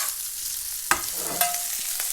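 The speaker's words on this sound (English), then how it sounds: "It is sizzling hot." Bacon sizzles in a frying pan for a BLT sandwich, a steady bright hiss close by, broken by two sharp utensil clinks and soft stirring scrapes.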